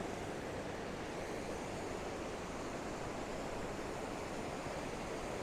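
A continuous rushing of a flowing river in the Smoky Mountains, broad and steady without pause, with no talking over it.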